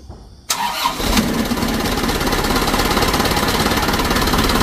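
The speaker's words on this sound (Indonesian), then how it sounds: "Untuk mesinnya sudah hidup teman-teman." A rebuilt Isuzu Traga engine cranks briefly, catches and settles into a loud, steady, rattling idle at close range with no voices.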